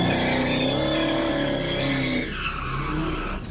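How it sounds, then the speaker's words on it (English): Tires screech loudly as a car skids before slamming head-on into a stopped police patrol car, recorded by a dash cam; a sustained squeal dominates, then gives way to rougher noise near the end. "Listen to the moments that follow when he slams head on into the officer's stopped patrol car."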